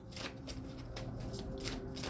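Tarot cards being shuffled in soft, papery riffles and slides, faint and close, with no talking.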